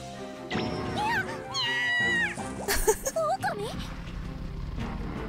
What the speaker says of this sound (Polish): Jaki kotek!